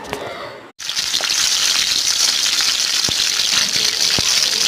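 Water poured from a vessel into a pot for boiling pasta, a steady loud gushing splash that starts abruptly after a brief pause and continues without letup, with a few small clinks of metal against the pot.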